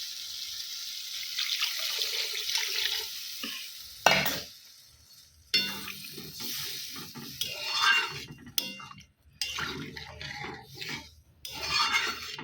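Water added to a pan of fish curry on the stove: bursts of pouring and splashing break into a steady sizzle, followed by stirring and bubbling close by, with no voices.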